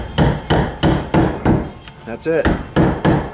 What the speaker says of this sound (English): Preset nail, tap it on.